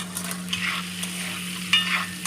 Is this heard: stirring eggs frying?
yes